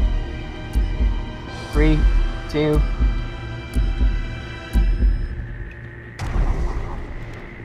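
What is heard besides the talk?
heartbeat sound in GTA Online from video game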